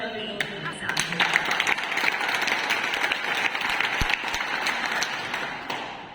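Loud applause from a crowd at an agents' meeting in Ellenabad, dense clapping building and sustained for several seconds, with a voice speaking over it.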